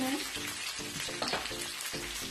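Chopped ginger and garlic sizzle and fry in a pan for Bhuna Gosht, a steady close crackle with soft stirring scrapes in short pulses.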